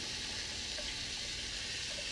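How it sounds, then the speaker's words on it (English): Garlic and the Cajun Trinity sizzle in hot oil in a pan for gumbo, a steady, close, hissing fry with no pauses and no voices. "Now in another pan with a little bit of hot oil, throw in your garlic, pour in your Trinity"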